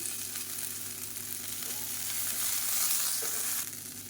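Dried red chillies with handfuls of mint and coriander leaves sautéing in a pan for a coconut chutney, a steady close sizzle with faint stirring that swells slightly before easing off, no voices.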